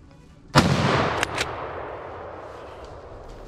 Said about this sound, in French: décide de tirer cette première bête